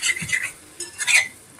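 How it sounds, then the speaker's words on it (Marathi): Liver masala being turned over in a pan with a utensil, a few brief scraping stirs near the start and again midway, fairly quiet with gaps between. "आता हे परतून बघायचं आहे खाली चिकटलं वगैरे नाही आहे ना"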